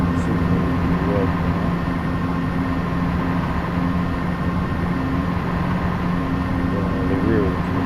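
A train rumbles past in a simulator game, a steady continuous roar of wheels and engine that holds throughout, with faint tonal squeals near the start and end.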